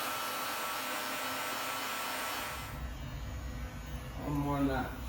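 Electric hair clipper buzzing steadily through a skin fade haircut, a continuous close motor drone that shifts tone partway through as the blade angle or pressure changes, with a brief louder hum near the end.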